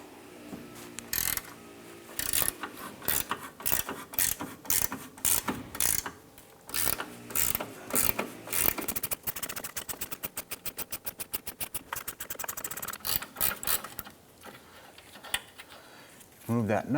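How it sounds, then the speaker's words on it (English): A gear wrench ratchets as the front engine mount nut is loosened and removed on a 2005-2007 Ford Five Hundred, giving bursts of close, sharp clicking and then a fast, steady run of ratchet clicks with brief pauses between strokes. "Using a 15mm socket or gear wrench, loosen and remove this nut."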